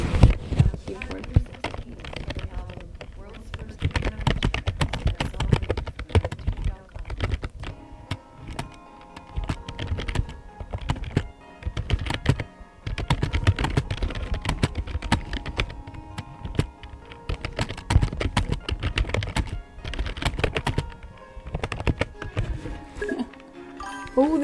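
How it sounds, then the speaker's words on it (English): Rapid, uneven clatter of typing on a computer keyboard, close and fairly loud, running steadily with brief pauses between bursts of keystrokes. "I need my keyboard."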